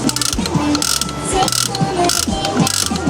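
A capsule toy vending machine crank turns with steady, repeated ratcheting clicks and gear clatter, close and fairly loud, with no voices.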